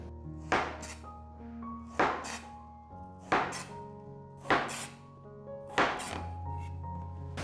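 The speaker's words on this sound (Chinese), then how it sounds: "把丝瓜切一半，把丝瓜切片。" A knife slices through loofah on a cutting board in five evenly spaced, crisp thunks, close and distinct with quiet gaps between each chop.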